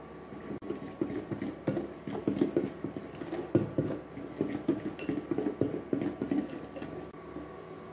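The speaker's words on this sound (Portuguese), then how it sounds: "batendo devagarzinho." A utensil beats cake batter slowly in a bowl while milk is added for a pudding cake made without condensed milk, giving a steady series of soft knocking and scraping strokes close by, with no voices.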